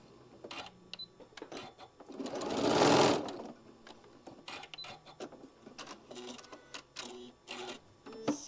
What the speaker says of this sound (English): One more stitch, and then back tack.